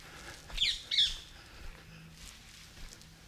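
Parakeets give a couple of quick, shrill squawks close together, then fainter calls follow amid quiet outdoor ambience in a garden near ancient woodland.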